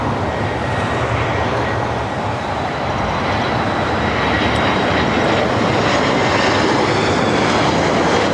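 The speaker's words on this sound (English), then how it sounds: "our next arrival is Delta Airlines flight 2975 coming in from Portland and at A321" Delta Airlines Airbus A321 arriving at Los Angeles International Airport from Portland, a loud steady jet roar that fills the whole stretch, swelling slightly toward the end as it passes close by.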